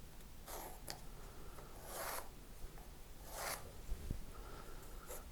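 Pencil scratching across a guitar headstock veneer as the outline is drawn, a few soft rasping strokes spaced out over several seconds, faint and close with a quiet background.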